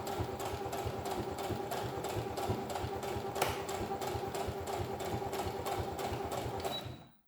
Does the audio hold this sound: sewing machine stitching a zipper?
yes